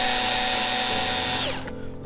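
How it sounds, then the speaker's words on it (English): A loud, steady whine from a power driver runs screws back into the solar panel housing of a Solar-Breeze floating pool skimmer, close up and continuous, then winds down abruptly near the end. "Put the screws back in."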